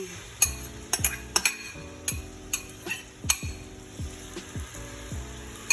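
Tomatoes fry in a pan for shrimp tacos, a soft sizzle under repeated sharp utensil scrapes and clinks against the pan, close up and with no talking.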